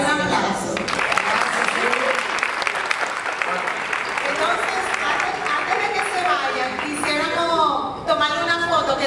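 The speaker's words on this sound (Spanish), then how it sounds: "Así que un aplauso" Audience at a talent-show discussion event applauding, a dense continuous round of clapping with cheers and voices mixed in, fairly loud and sustained, briefly dipping before picking up again.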